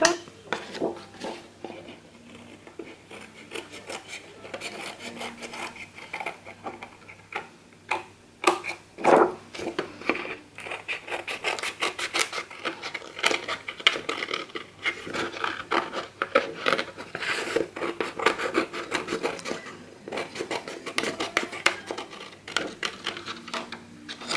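Paper is cut for a seventies-style scrapbook album, producing quiet, close snipping and rubbing scrapes in an irregular run, with a sharper clack midway and light handling noises.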